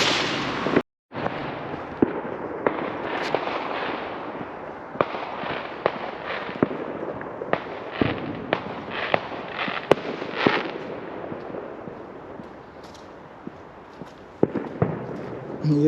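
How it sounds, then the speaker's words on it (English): Bonfire Night fireworks in a Derby park, UK: repeated booming bursts and crackling pops at irregular intervals, loud and echoing outdoors, with a brief voice or two in the background. "That's outside I try to capture some fireworks"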